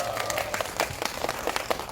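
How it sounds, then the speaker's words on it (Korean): A short burst of audience applause, steady clapping from a group that continues without pause. "다시 한번 박수 한번 부탁드리도록 하겠습니다."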